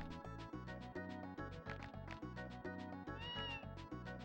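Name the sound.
bush baby creature cry in Tales of Phantasia video game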